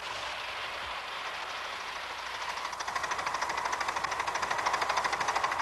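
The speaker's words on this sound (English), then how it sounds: "Today, they test their engines on more than a mile of track." A model steam locomotive runs along more than a mile of club-built track, a steady rolling rumble with rhythmic clicking that grows louder and faster as it draws nearer.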